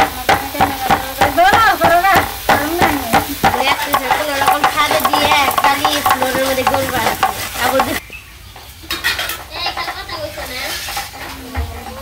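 Chicken curry braising and sizzling in a pan, cooked village style on a rainy day, with repeated scraping stirs and steady frying hiss, loud and close; the stirring stops near the end, leaving a quieter sizzle.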